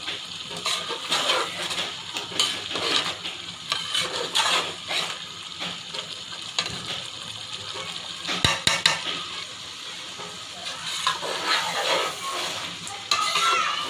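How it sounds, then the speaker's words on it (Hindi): Masala with kasuri methi sizzles and crackles in a hot pan for chicken karahi while a spoon stirs and scrapes, with occasional sharp metallic clinks, close and continuous. "इसको अभी मैंने 3-4 मिनट और भूनना है।"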